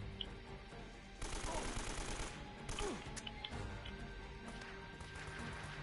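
Gunfire in the video game Uncharted: Drake's Fortune, with quick bursts of automatic shots and scattered single cracks, fairly faint within the game's ambient sound.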